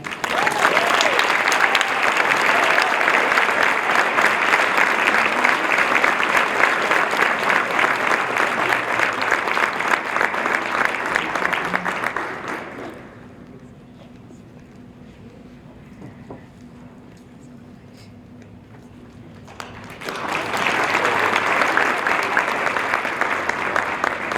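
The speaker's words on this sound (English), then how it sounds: "give her a special extra round of applause" Audience applause at a YMCA Black Achievers awards celebration honoring the Youth Achiever of the Year, a loud sustained ovation that drops to near silence midway, then resumes just as strongly.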